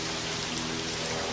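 Steady rain falls, a dense, even hiss of drops that holds at the same loudness throughout, with no voices.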